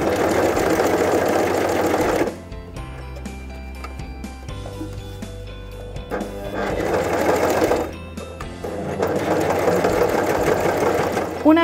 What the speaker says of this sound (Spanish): Comienza a coser asegurándote que tus agujas caen en la tela.